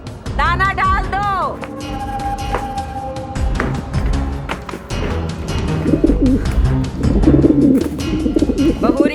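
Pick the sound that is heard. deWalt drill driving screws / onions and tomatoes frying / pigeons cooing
pigeons cooing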